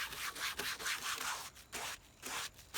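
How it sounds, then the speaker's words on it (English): A cloth wipes oxidized plastic trim to lift paint overspray, giving close, soft rubbing swishes in an uneven back-and-forth rhythm with short gaps between strokes. "Let's keep wiping."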